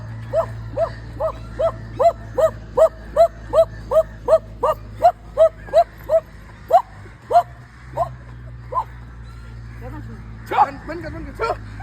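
A woman imitates a dog barking with her voice, giving a rapid run of about twenty short, evenly spaced yaps that slow toward the end, followed by a louder final bark, over a low steady hum.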